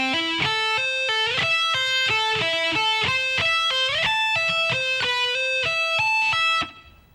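Electric guitar lick in a solo, a fast run of clean, distinct picked and hammered notes, some sliding between pitches, played loud and alone before stopping abruptly near the end.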